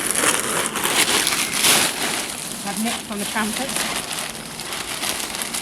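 A big plastic bag full of leaves is rustled and crinkled close by during a hazel dormouse survey, a steady crackly rustle running throughout under a person talking.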